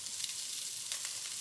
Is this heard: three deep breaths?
no